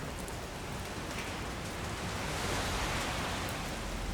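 Steady video game rain ambience, a constant even hiss of falling rain with no voices and no breaks.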